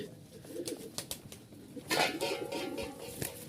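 A pair of Giribaz pigeons, male and female, cooing close by in soft repeated throaty coos with a louder burst midway, over a quiet background.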